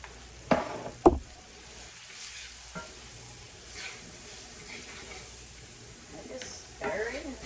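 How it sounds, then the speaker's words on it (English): Meatloaf vegetables seasoned with Creole seasoning are stirred in a hot pan, giving a steady sizzle with scraping spoon strokes and a couple of sharp knocks near the start; a voice speaks over it at times. "Keep stirring, keep stirring, keep stirring."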